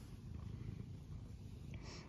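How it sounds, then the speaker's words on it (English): A female cat purrs close by in a steady, low, rumbling drone that runs through the whole moment at a soft level. "Cat is so adorable and it's following me around."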